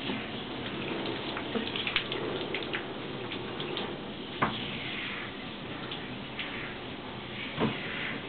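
Water runs steadily from a tap while Diesel the dog is bathed, a continuous splashing hiss with occasional soft knocks and drips.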